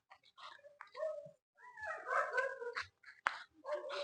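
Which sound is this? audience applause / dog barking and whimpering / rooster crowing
dog barking and whimpering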